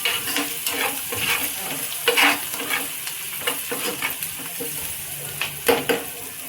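Raw banana pieces fry with turmeric in a pan, giving a steady close sizzle broken by scraping stirs and light clinks of a utensil against the pan, with no talk.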